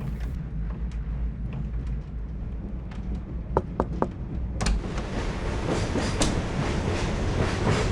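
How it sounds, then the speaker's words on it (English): Moving train in the video game The Last Express: a steady low rumble of rolling wheels with a few sharp clacks, which swells louder and brighter about halfway through, with no talking. "Yes, we're on a moving train."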